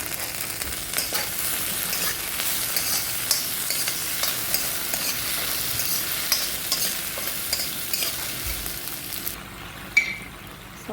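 Onion sautéing with tomato, ginger and garlic in a pan for chicken kurma, a close, busy sizzle with repeated stirring scrapes that drops off abruptly near the end.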